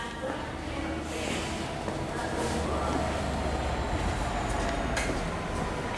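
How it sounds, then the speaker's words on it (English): A freight train rolls through Peterborough station on the East Coast Main Line, a continuous low rumble of wagons with faint rail clatter, steady and moderately close. "A freight train."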